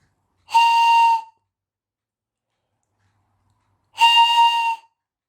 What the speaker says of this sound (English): It's not the most exciting whistle I've ever seen